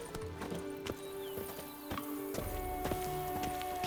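Roach, the horse in The Witcher 3: Wild Hunt, clops along at a walk, her hooves striking in a steady but uneven rhythm, close and distinct over a low ambient game hum.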